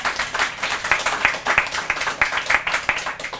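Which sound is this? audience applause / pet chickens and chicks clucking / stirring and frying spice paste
audience applause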